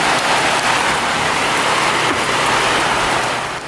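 Heavy thunderstorm rain at about 48 mm per hour roars loudly and steadily in Quebec, a thick close-up wash of pounding drops with no talking.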